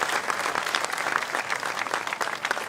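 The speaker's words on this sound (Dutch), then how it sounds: "En ik kreeg applaus van de tribune." Applause from spectators on a grandstand at a children's carnival parade, steady clapping at moderate distance with some crowd noise mixed in.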